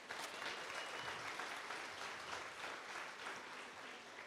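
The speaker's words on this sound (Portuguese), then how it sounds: "Nós salva de palmas para eles" A conference crowd applauds performers after a theater and dance presentation, an even, sustained patter of clapping heard from a distance at low volume throughout.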